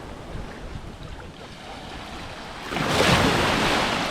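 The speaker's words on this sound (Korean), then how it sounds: "그 파도가 꽤 세." Ocean waves breaking on a beach on Oahu, Hawaii, with a steady wash of surf and wind noise that swells into a louder, nearer crash in the last second or so. No one speaks.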